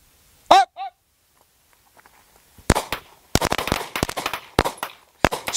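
Pistol shots fired during a shooting drill outdoors, a cluster of sharp cracks in an irregular rapid series after two short honk-like calls and a quiet pause.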